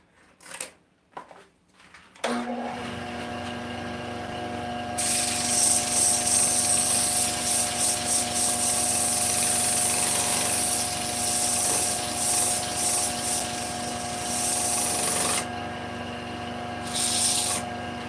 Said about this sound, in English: I'm going to sand that a little bit